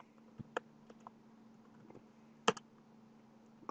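A computer keyboard clicks in sparse, irregular keystrokes, close and quiet, with a couple of sharper key presses over a low steady hum.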